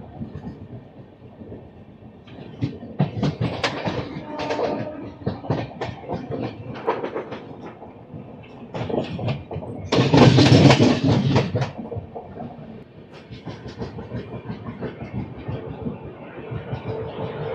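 A train rumbles and clatters through Ongole station on Indian Railways, steady and fairly close throughout, swelling into a loud broadband roar for a second or two midway before settling back to a continuous rolling clatter.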